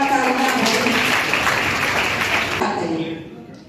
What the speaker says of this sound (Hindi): इनके लिए तो बहुत जोरदार तालियां हैं